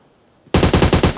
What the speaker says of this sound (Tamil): எங்க இருந்து அடிக்கறானே ஒருத்தன்